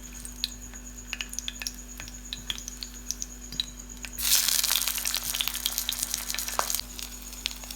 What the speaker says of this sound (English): Cooking oil hot already. Kebabs shallow fry.